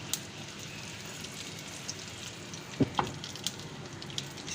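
Soft, steady sizzling and faint crackling of mustard seeds and spices frying in hot ghee, with a few sharp pops near the end, quiet and close.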